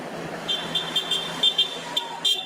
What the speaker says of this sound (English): Supporters of the blogger honked and demonstrated outside the courthouse in Stoughton